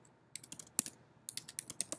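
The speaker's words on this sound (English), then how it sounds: "I'm going to go ahead and type some bad words here" Quick bursts of keystrokes on a computer keyboard, light clicky taps in two short runs separated by a brief pause, close and clear in a quiet room.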